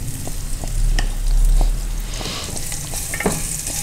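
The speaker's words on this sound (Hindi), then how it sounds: "हल्का सा भूनेंगे।" Ajwain seeds and garlic paste frying in a pan, a loud, close sizzle with a spoon scraping and stirring through it, steady throughout.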